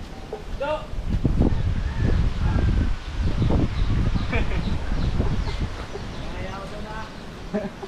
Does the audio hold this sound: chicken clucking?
yes